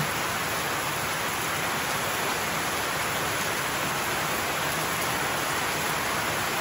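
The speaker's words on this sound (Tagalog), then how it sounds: "Ayan, ang lakas ng ulan." Heavy rain pours down steadily at a farm, a dense, even roar with no pauses and no voices.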